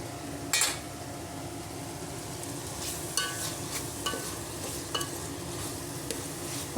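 Tomatoes fry in a pan with a low, steady sizzle, broken by a few sharp spoon scrapes and knocks against the metal, quiet and close, with no voices.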